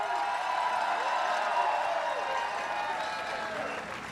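A crowd at a Washington Capitals victory parade applauds and cheers in a dense, continuous roar that holds steady for several seconds before easing slightly.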